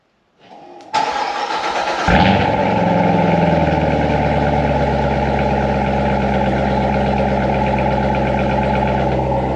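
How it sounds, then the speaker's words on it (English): A stock Corvette C7 Z06 cold-starts after a day sitting in near-freezing weather: a brief starter whir, then a loud sudden roar that settles into a steady, rumbling high idle up close. "we'll get you guys a proper cold start"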